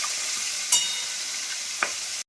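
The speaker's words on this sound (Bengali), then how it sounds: "4টে মাছ একসাথে দিয়ে দিলাম, এখানে ভাজা হোক" Four koi fish fry together in hot oil in a wok, giving a dense, steady hiss with two sharp clinks from a utensil before it cuts off abruptly.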